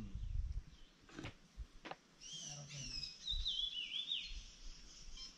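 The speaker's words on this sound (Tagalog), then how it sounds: "Sobrang ingay ng mga ibon." Birds call noisily in a forest in Laguna, thin high chirps and whistles rising and falling over rustling and faint handling noise, fairly quiet and somewhat distant.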